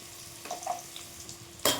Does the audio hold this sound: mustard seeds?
yes